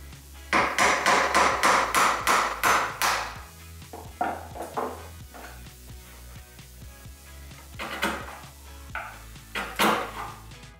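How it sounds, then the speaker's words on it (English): Hammer strikes drive a chisel to cut a trench in wood for a pot plant stand: a fast run of sharp, close blows, then slower scattered taps and a few more hard hits, with no speaking. "For this trench, we're going to go a little bit old school and use our hammer and chisel."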